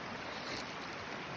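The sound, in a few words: water of a creek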